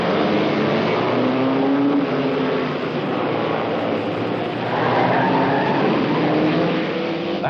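Race cars roar past on the Riverside raceway track, a loud sustained engine drone with shifting pitch as the cars sweep by, dipping slightly midway and then building again.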